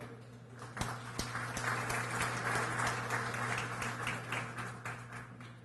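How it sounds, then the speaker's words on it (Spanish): Audience applause for a speaker at a Peruvian judicial conference, a full hall clapping steadily for several seconds with a few sharp, close claps standing out over a low electrical hum. "Le brindamos un fuerte aplauso."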